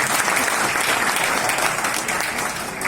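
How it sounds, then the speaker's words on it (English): Full, dense applause from the audience at a public speaking contest final, steady and loud for a contestant, easing slightly toward the end. "A big round of applause for her, ladies and gentlemen"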